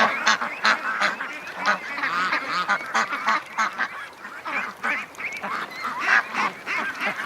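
Flock of ducks quacking and honking close by in a rapid, overlapping chorus that never lets up, with no talking.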